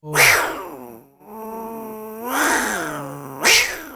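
A voice imitates a cat with three drawn-out, wavering meows and yowls, loud and close, with short pauses between them.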